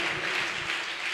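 A church congregation claps for the Lord, a steady burst of many hands applauding evenly, moderately loud and unaccompanied.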